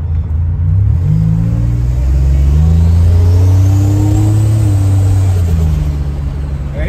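A Buick Grand National under hard acceleration, a loud close engine roar climbing in pitch with audible gear shifts, steady and continuous throughout.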